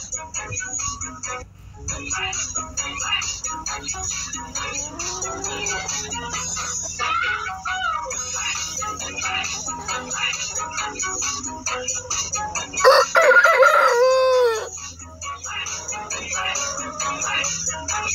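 Chickens of mixed colours, red, brown, white and black, cluck steadily in a backyard coop, with a rooster crowing loudly near the end over the continuous flock chatter.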